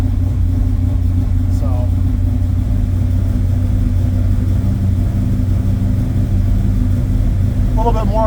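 A 1980 Chevrolet Malibu Classic drag car with a 406 cubic-inch small-block V8 idles steadily and loudly up close, a constant low rumble throughout while someone talks briefly.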